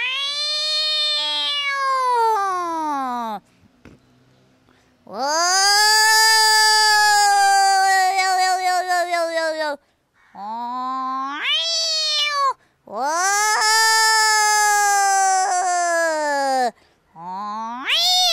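A woman imitates a cat with a series of long, wailing meows, some drawn out for several seconds and others short and sharply rising. The meows are loud, close and separated by brief pauses, with no talking.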